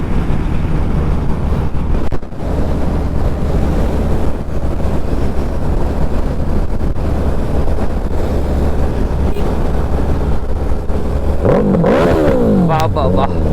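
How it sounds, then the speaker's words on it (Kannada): A Suzuki Hayabusa superbike on a highway, heard while riding behind on another motorcycle: a loud steady engine drone and wind roar throughout, then rising, sweeping revs near the end as it pulls away. "It's Suzuki ಹಯಾಬುಸಾ."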